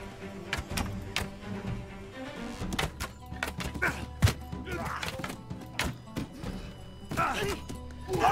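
Archers loose arrows during a Mount and Blade 2: Bannerlord battle, giving scattered sharp thunks and thwacks of shots and impacts at irregular intervals over a low background of battle noise.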